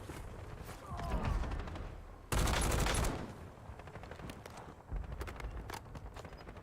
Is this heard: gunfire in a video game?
yes